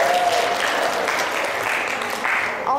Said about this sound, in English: give Granada a round of applause for giving us such good food